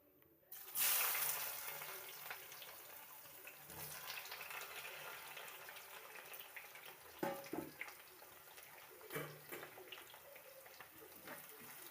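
Chopped onions and tomatoes drop into hot oil with a sudden hissing burst that settles into a steady, fairly quiet sizzle, with a few louder spatters.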